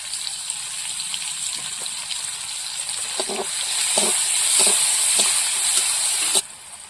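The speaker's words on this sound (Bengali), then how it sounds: "পেঁয়াজটা ভাজা হয়ে গেছে, এবার ওল শাক দিয়ে দেবো।" Onion and garlic fry in hot oil in a wok, a loud steady sizzle that thickens midway, with scattered stirring scrapes and clinks against the pan before the hiss cuts back sharply near the end.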